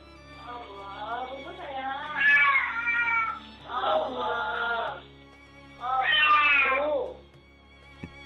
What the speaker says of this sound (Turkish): Sahibi kedisini yıkamaya çalışırken kedinin çıkardığı sesler büyük ilgi gördü.